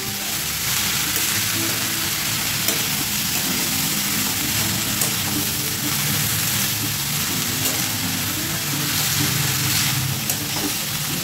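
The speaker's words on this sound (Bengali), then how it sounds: "ভালো করে ভেজে নেবো, কষিয়ে নেবো," Spices sizzle and fry steadily in a pan for Bengali cooking, a dense continuous crackle and hiss without pause and with no talking.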